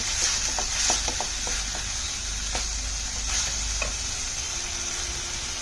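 Ginger-garlic paste fries in a pan for a shrimp curry, a constant soft sizzle broken by light scattered taps and scrapes of a spoon as it is stirred.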